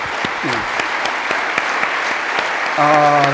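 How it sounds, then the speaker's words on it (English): An audience claps steadily, a dense wash of applause close by, while a voice speaks briefly over it and a short tonal sound comes near the end. "I appreciate the applause."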